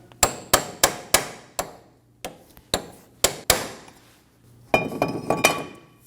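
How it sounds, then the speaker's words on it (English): Sharp metallic strikes of a hammer on a punch, staking an axle nut on a 2008–2015 Scion xB, ring out one after another at an uneven pace, a dozen or so close-up clanks, the last few quicker and busier. "Using a hammer and a punch, we're going to stake our axle nut."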